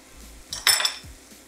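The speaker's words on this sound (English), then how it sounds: "So now we just need to mix it all up." Biscuit dough of melted butter, baking powder and garlic powder mixed in a bowl, one short bright clink and scrape of a utensil against the bowl in an otherwise quiet kitchen.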